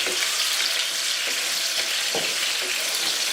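Tinda (round melon) pieces browning in a hot frying pan give a steady, close sizzle and crackle, broken by a few soft stirring scrapes.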